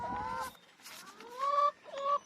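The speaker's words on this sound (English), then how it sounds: "I have some new hens out here." Hens in a backyard chicken coop cluck and trill close by in a few short, rising calls separated by brief pauses.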